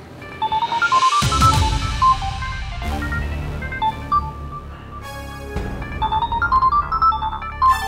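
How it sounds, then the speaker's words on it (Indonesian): A mobile phone ringtone, a loud melodic electronic tune of bright repeated notes playing continuously close by, with no voices. "Aduh, aku lupa matiin nada dering HP-nya."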